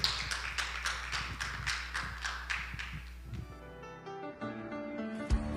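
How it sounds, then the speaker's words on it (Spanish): A church congregation claps in a steady rhythmic beat for about three seconds, close and fairly loud, before music takes over. "Un aplauso al Señor fuerte."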